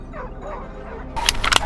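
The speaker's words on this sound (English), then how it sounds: "the sound of barking broke through the air" Hunting dogs bark at a wild boar near a forest edge, a burst of sharp yips and barks arriving after a stretch of low rumbling background.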